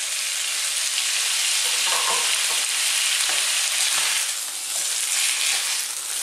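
Fresh tomatoes fry in a pan over just below medium heat, giving a loud, steady hiss and crackle with occasional stirring shifts and no talking.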